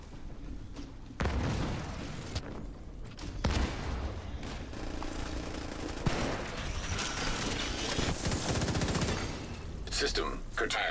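SMG fire in The Division during a PvE firefight, rapid automatic bursts rattling on and off over a steady bed of game noise and effects, with talk mixed in.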